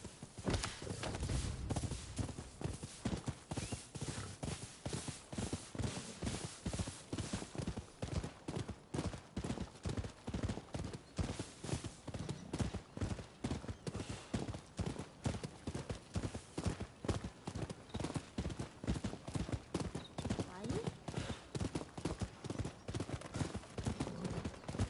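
Steady clip-clop of horse hooves in the video game Rise of the Ronin, at a brisk walking pace, continuous and fairly close, with no voices.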